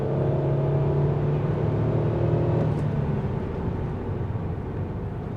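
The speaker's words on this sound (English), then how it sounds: "Let's bust this little turn here, see how that acceleration is." A 2002 Lexus ES300 with a naturally aspirated engine accelerating through a turn, a steady in-cabin engine drone and road rumble that holds level, then eases slightly toward the end, no talk.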